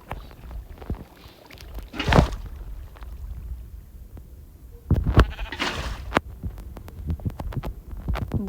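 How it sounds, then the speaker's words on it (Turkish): Minecraft sheep bleating in a single-block survival world, two loud bursts a few seconds apart over low game ambience, with no talking. "Bak koyun."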